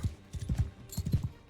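Horse hooves galloping in the video game Mount and Blade 2: Bannerlord, a rapid run of clip-clop hoofbeats in irregular clusters, fairly close and steady throughout with a faint whinny.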